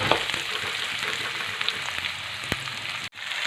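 Onion and whole spices sauté in a hot pan, giving a steady, close broadband sizzle that runs throughout, with a few faint utensil scrapes and a brief dip near the end.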